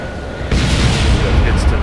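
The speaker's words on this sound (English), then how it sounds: "We have hits to the center line that look like a big explosion." A loud, sudden boom as torpedoes strike an enemy aircraft carrier in a naval video game, followed by a sustained heavy rumbling explosion that stays loud to the end.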